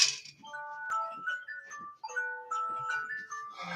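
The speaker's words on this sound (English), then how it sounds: "Oh, that is my alarm to wake up." A phone alarm set to wake someone up plays a bright chiming melody in repeated phrases, close and clear, with faint rustling underneath.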